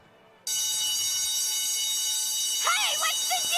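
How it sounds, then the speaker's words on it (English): A store security alarm from an animated series blares in abruptly after a brief quiet moment, holding a loud, steady electronic tone, with a voice speaking over it near the end. "That's a security alarm."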